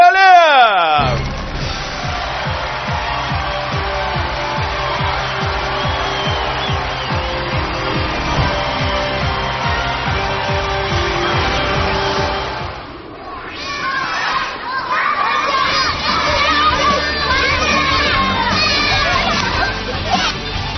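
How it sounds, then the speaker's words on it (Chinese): A TV variety show studio audience applauds and cheers to welcome a child guest: a dense, steady wash of clapping and shouting voices, loud and sustained, dipping briefly before swelling again. "来，现在让我们用热烈的掌声请上一号主人公黄嘉亮。"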